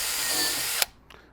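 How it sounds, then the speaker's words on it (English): A power drill drives screws into a wooden jig: a close, whining burst that cuts off with a sharp click, followed by a brief tap. "I'm just going to secure this with a couple screws."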